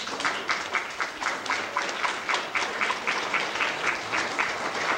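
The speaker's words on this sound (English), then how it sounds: "maybe we could all give them a round of applause" An audience at a volunteer appreciation day applauds its volunteers, a sustained round of many hands clapping with a slightly rhythmic, pulsing texture, fairly loud and steady throughout, with no voices over it.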